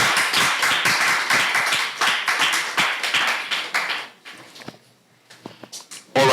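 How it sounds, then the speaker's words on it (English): An audience at the Dare2Debate 2025 event in Nigeria applauds the debate representatives, with close, sharp individual claps in an irregular burst that thins out and nearly fades before a final clap. "A round of applause for them, please,"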